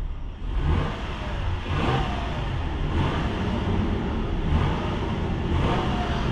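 A 2022 Toyota Tundra Limited CrewMax with a V6 engine revs steadily for several seconds, a moderate droning roar with slight rises and falls, heard alone without speech.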